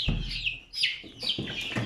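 Growing Australorp chicks, blue and black, peep and chirp in a run, with several high, shrill calls in quick succession close by.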